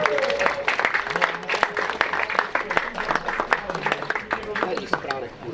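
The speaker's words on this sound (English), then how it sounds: "one more applause for Group A" A crowd at a CRKC 2025 heat applauds the winner: brisk, dense clapping rises and falls over several seconds, with a few voices and crowd murmur mixed in.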